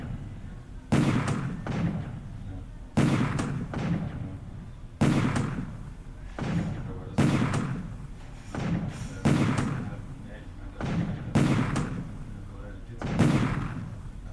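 Naval shells from 40 cm guns and smaller destroyer guns burst in a War in the Pacific strategy game, heavy booming thuds landing at roughly regular intervals of about two seconds over a low rumbling background.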